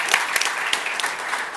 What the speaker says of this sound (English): I feel like it needs a round of applause.